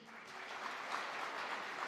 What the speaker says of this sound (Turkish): Alkışlayın kendinizi